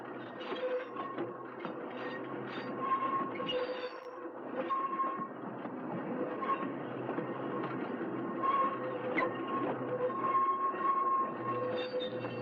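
Riding aboard a Key System electric train passing beneath the Army base overpass, a steady rumble of wheels and rail joints with faint recurring squeals, moderately loud and continuous.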